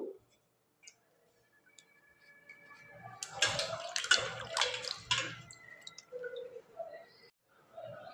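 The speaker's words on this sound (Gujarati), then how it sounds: "આ કેરીને પહેલાં સારી રીતે ધોઈ લઈશું" Mangoes for a sweet and spicy pickle are washed in water, with splashing and dripping rising in the middle before fading into soft clicks, close and quiet with no talk.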